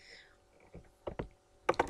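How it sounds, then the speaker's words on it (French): Enter and Tab keys pressed on a computer keyboard, a few close, quiet clicks spread out, ending in a quick double tap, with no talk over them. "Donc on va faire Entrée et appuyer sur le Tab de notre clavier."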